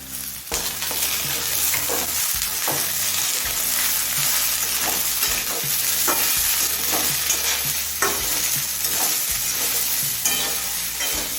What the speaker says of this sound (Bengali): শিম আর বেগুনটা দিয়ে নেড়ে ফেড়ে সব কিছুর সাথে মিশিয়ে নিয়েছি